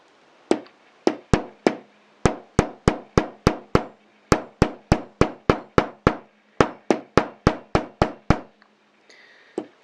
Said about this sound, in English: I'm going to bang with a hammer on the edge till it flattens